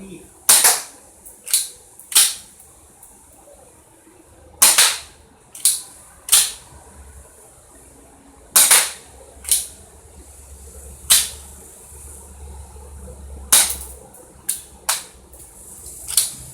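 Air pistols firing BB pellets at a shooting range crack out in sharp, loud single shots with uneven gaps between them, a dozen or so reports with faint low rumble and quiet movement in between.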